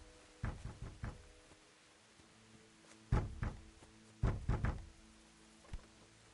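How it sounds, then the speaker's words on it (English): Someone pounds on a door in Kingdom Come: Deliverance: a burst of three knocks, then two more clusters of heavy thuds a second or so apart, followed by a single knock, all muffled as if from another room. "Someone's banging on the door in there."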